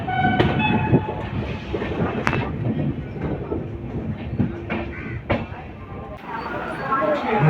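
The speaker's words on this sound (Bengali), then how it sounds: "456 কিলোমিটার পার করে আমাদের ট্রেন চলে এসেছে খুরজা রোড জংশনে" A passenger train on the Kolkata to Puri route runs with a steady, loud rumble and clicking wheel knocks, while voices talk faintly in the carriage.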